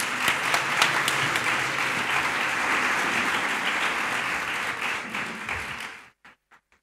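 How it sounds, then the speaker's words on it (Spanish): Loud sustained applause welcoming the next speaker at an agency conference, a dense crowd clapping that fades out, leaving a few last scattered claps before silence. "Voy a pedir un aplauso para nuestro siguiente ponente."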